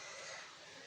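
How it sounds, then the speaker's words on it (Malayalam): A single short, sharp cough bursts out loudly at the very end after a moment of quiet room tone. "നല്ല ചുമയുണ്ട് ഗൈസ്."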